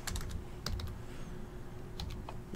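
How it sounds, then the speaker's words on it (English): Typing on a computer keyboard to log sports trading cards, quick clusters of soft key clicks over a steady low room hum, close and fairly quiet, with no one speaking. "Let me type that in."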